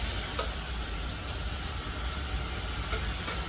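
Hot stock poured into a pan of quinoa risotto sets off a loud, continuous sizzle and steamy crackle, held steady close up with faint bubbling throughout.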